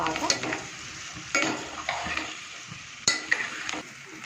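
Okra (lady's finger) pieces are stirred in hot oil in a pan, with a steady sizzle under sharp scraping clinks of a spoon against the pan at irregular intervals.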